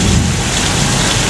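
The rain and thunder effect on the Universal Studios backlot tour is a loud, dense roar of pouring rain mixed with low thunder rumble, close and continuous.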